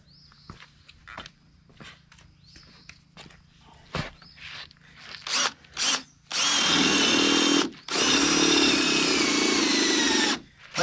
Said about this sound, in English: So let me drill this side first.